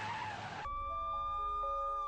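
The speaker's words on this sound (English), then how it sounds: "And then a second car barrels down and plows into me." A car skids with a broad screech during a staged collision scam in Los Angeles, the noise cutting off sharply and giving way to steady tonal ringing, with no voices.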